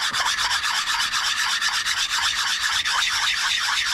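Sandpaper worked by hand around the laser-cut edges of a wooden piece makes a loud, close, continuous rubbing scratch with a quick, steady stroke rhythm throughout.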